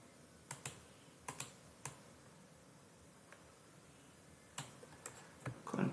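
Computer keyboard keys are pressed for shortcuts while working in CorelDraw 2024, sparse, sharp clicks in small clusters over a quiet room, close and faint.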